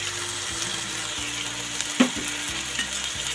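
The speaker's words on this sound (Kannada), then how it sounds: "ಹಸಿ ಸ್ಮೆಲ್ ಹೋಗೋವರೆಗೂ ಫ್ರೈ ಆಗೋದಕ್ಕೆ" Tomato and ginger-garlic paste fry in a pan with a steady close sizzle, stirred now and then, and a brief louder scrape around the middle; no one speaks.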